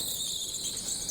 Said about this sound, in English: All you can hear now is the whining and the tyres squeak.